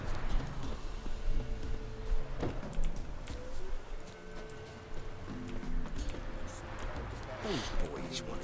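Horse hooves clip-clopping in the video game Witcher 3, a steady rhythmic patter under game music, voices and ambient noise, moderately loud throughout.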